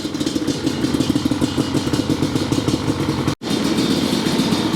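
A 2001 Yamaha Banshee ATV engine runs after starting, a loud, rapid, rattly two-stroke idle that stays close and steady, with one brief dropout partway through.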